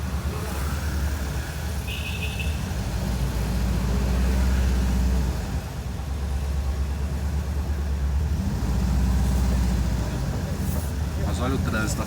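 A Volkswagen Kombi van engine droning steadily while climbing uphill through city traffic in Osasco, a continuous low rumble with swelling and easing throttle, close and fairly loud, with people talking over it.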